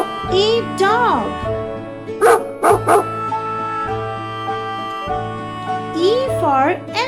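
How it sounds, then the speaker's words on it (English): Dog giving a few yelping barks and whiny howls in short bursts over a steady children's song backing. "D for dog."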